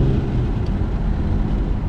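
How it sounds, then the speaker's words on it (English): A right-hand-drive Nissan Skyline R34 cruises in sixth gear, a steady low engine and road drone heard from inside the cabin, with no talking. "We're driving a right-hand drive Skyline."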